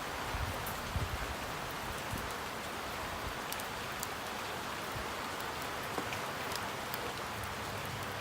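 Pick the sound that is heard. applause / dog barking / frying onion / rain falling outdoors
rain falling outdoors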